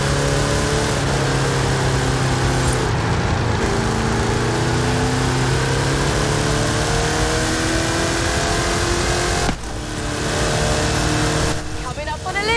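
A monster truck in the Forza Horizon 5 racing game drones and revs steadily for several seconds, a loud continuous engine tone with shifting pitch and a brief dip near the end, while a voice talks over it.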